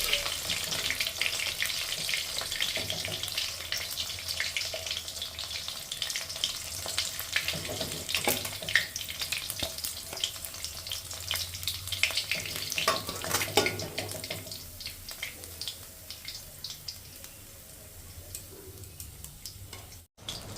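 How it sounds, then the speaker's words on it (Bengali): Fish fries in a hot pan for a spiced fish curry, giving a steady, close sizzle with occasional stirring clatter. The sizzle runs continuously for about twenty seconds and eases slightly near the end, with no talking. "বাদ বাকি মাছগুলো আমি সম্পূর্ণ ভেজে নিই"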